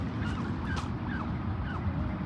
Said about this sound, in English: now the geese, they come